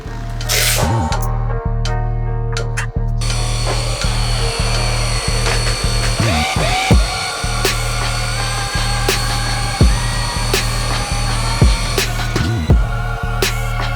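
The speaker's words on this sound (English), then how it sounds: "I'm going to gently rub that compound in and let's start polishing." A machine polisher works compound into the paint of a 2018 Honda Civic, giving a steady close motor whir with occasional bumps and shifts in pitch throughout.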